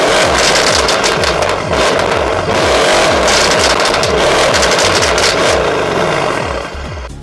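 A 2016 Mercedes-AMG C63 S in Sport Plus mode revs hard and continuously, its loud, rumbling engine note crackling as the revs rise and fall, with no talking.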